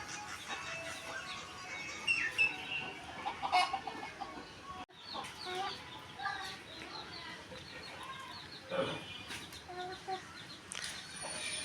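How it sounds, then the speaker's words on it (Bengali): Hens clucking as they come into a village yard, a scattered run of soft, close clucks and short calls continuing throughout. "এখন আমার মুরগিগুলো উঠানে আসছে।"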